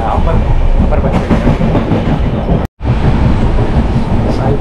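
Pothigai SF Express train heard from inside a coach on the Chennai Egmore to Sengottai route, a loud continuous rumble with clickety-clack wheel beats and a brief dropout near the middle.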